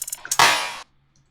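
Single time-stretched snare hit sample in Ableton, a few quick ticks before a loud smeared burst that sustains briefly and then cuts off abruptly, heard alone.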